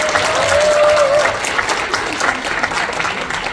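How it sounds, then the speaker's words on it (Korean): An audience at a speech by Seoul's mayor bursts into loud, full applause that starts strong and then eases slightly as it continues, with a brief thin whistle-like tone near the start. "알아들으니까 여기서 박수가 지금 나온 거거든요"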